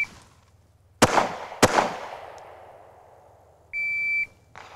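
Two sharp, loud pistol shots ring out about half a second apart during a timed shooting drill, each trailing a fading outdoor echo, followed by a steady electronic timer beep.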